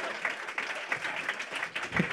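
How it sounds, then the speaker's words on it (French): A small audience applauds for the rap group Black Taboo, scattered claps over a soft crowd wash with occasional louder hits and a brief whoop, moderately loud and without speech. "Je veux qu'on fasse un tonnerre d'applaudissements."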